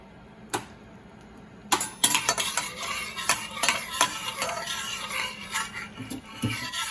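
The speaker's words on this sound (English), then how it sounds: "The butter's bubbling." Butter sizzles and bubbles softly in a pan over medium-low heat for gravy, with a spoon clinking and stirring against the metal at close range, no voices.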